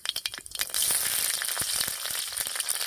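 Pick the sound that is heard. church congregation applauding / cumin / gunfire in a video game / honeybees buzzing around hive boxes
cumin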